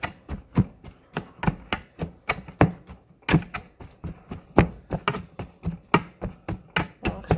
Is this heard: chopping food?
yes